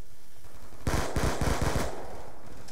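Rapid automatic gunfire in Call of Duty Black Ops 2 multiplayer: a tight burst of about six or seven loud shots in quick succession, starting abruptly and cutting off after roughly a second, with no talking.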